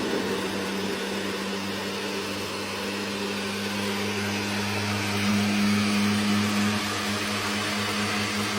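A mixer grinder churns idli batter in a continuous, loud motor drone with a steady low hum. It runs unbroken from start to end with no talking.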